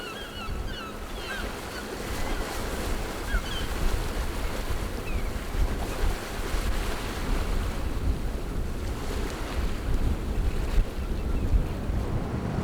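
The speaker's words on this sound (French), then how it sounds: "un peu de vent et d'écume qui accrochent les roches autour de l'archipel" Gusty wind and the continuous wash of surf breaking against rocks around an island archipelago the day after a storm, with faint seabird calls high above the roar.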